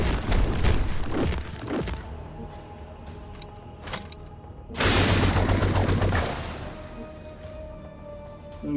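A goo cannon fires in a Warhammer 40K video game. A sudden loud, broadband blast lands mid-clip and holds as a roaring burst for over a second before fading, amid other clattering game effects.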